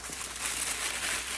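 Wrapping paper crinkles and rustles softly and continuously at close range while a Louis Vuitton Speedy bag is unboxed.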